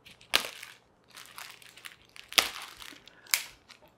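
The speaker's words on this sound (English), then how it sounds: "So I'm going to go ahead and cut this plastic open." Plastic packaging around a portable wind turbine is cut and pulled open up close, with several sharp crinkling crunches separated by softer rustling and handling, and no one speaking.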